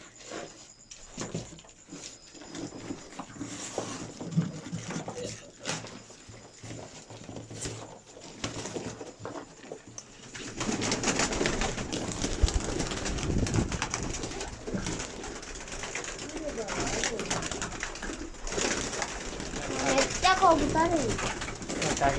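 Pigeons cooing in a loft, soft repeated low coos and wing flutters behind a person talking, the background growing busier and louder halfway through.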